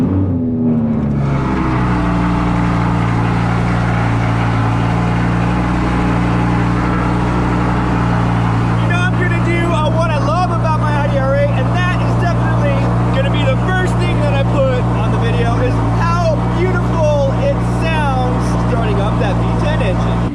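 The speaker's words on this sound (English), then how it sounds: "let's get a little bit of that cold start here for you" An Audi R8 engine cold-starts with a brief starter whir, then settles into a loud, steady, deep idle that drones on throughout, with someone talking over it partway.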